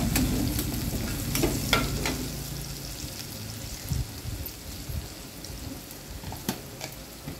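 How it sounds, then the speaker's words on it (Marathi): Garlic, ginger and turmeric frying in oil, a soft continuous sizzle with occasional spatula knocks and scrapes in the pan, close and moderate in volume. "परत परतून घेऊ।"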